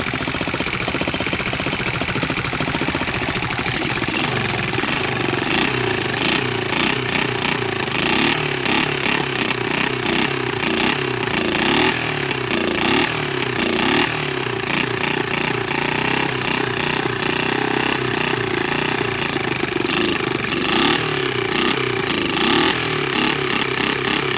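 A Honda TRX200SX ATV, bought as a parts machine, runs just after a choke start with audible valve noise, a loud, close, rough and busy engine clatter holding steady throughout with no speech.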